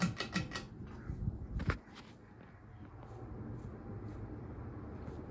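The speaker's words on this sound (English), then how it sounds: "The motor makes a cool startup sound." An Emerson Legend ceiling fan without a light kit starts up at high speed: a few sharp clicks and taps, then a steady, fairly quiet motor whir that holds to the end.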